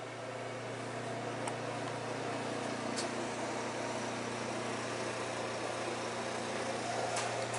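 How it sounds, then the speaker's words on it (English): Snowblowers running outdoors in a snowy setting, a steady, constant engine drone with a low hum and broad rushing noise, moderately distant and unbroken, with faint clicks and no talking. "That's the sound of snowblowers."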